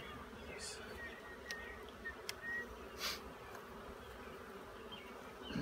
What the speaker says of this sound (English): I got bees over here, yep.